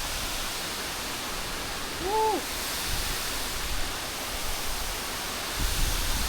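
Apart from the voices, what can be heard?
waterfall in the mountains in Albania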